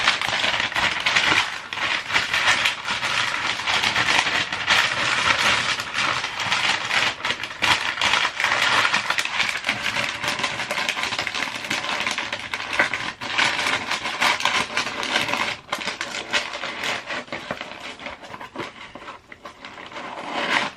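Loud, continuous crinkling and rustling of craft paper being crumpled and stuffed into a box as padding, dense and close, going on steadily for about twenty seconds.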